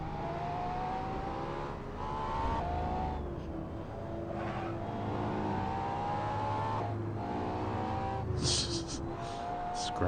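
A Ferrari racing car in the video game Assetto Corsa, engine revving and shifting continuously with rising whine sweeps and brief tire squeal near the end, loud and close.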